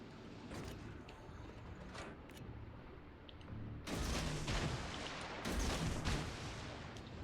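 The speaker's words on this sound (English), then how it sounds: "Fire on the enemy warship." Naval guns fire on an enemy warship in a World of Warships Legends sea battle, heavy booming salvos rolling over a constant rumble, with two louder bursts of fire in the second half.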